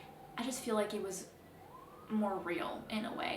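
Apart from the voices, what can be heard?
emergency vehicle sirens passing outside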